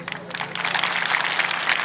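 Audience applause for a local MLA at a public gathering in Assam, a dense, steady patter of many hands clapping that builds and holds throughout, with some crowd murmur mixed in.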